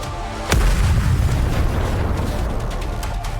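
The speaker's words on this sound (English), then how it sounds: "A loud explosion rings out near the walls of the lift, followed by clouds of smoke." A sudden loud blast erupts near the metal walls of a lift in the NIKKE game, a sharp boom followed by a long, heavy roaring rumble of debris and smoke that fills the rest of the moment.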